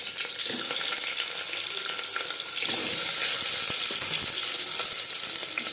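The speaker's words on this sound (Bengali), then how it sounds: "তিন চামচ রিফাইন্ড অয়েল গরম করে নিয়েছি এবার দিয়ে দেবো পেঁয়াজ" Onions hitting hot refined oil in a pan set off a loud, close sizzle that swells into a steady hiss and holds, with faint stirring knocks underneath.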